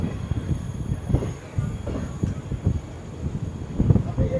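The Renigunta–Mysuru 22136 superfast express rolls through Jolarpettai Junction, its wheels giving a steady rhythmic clatter over rail joints with close rumbling and faint squeals throughout.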